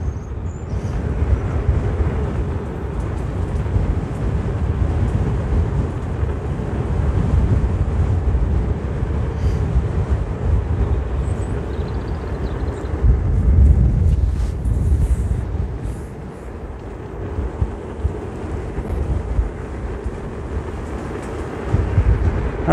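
Steady wind buffeting the microphone while riding an Inmotion V11 electric unicycle outdoors, a loud low rumble that swells and dips continuously with no talk.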